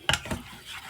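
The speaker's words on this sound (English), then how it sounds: "I like to get the paste, you know, around the chicken as it warms up and starts to cook." Curry paste and chicken stirred in a dry non-stick pan for a Thai curry: two quick scraping strokes close by, then a faint low sizzle.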